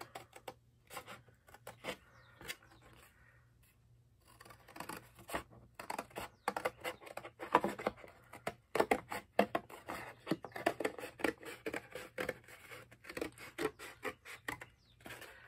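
Scissors snip through chipboard in a run of close, crisp cuts and scrapes, sparse at first then quickening into dense, uneven bursts of clipping over a faint background hum.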